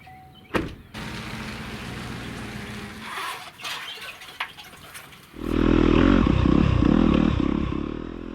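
A 2021 Yamaha YZ250FX dirt bike starts up after some clattering and scraping, its engine rising to a loud, steady roar over the last three seconds.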